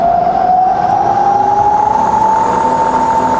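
A Bridgeport milling machine runs in low range, giving a steady, loud whine whose pitch rises slowly over a constant mechanical drone, with no talking.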